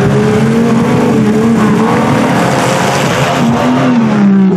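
A Jeep engine roars and revs loudly at close range during an off-road mud bog race, holding a steady throaty drone with a slight pitch sag near the end.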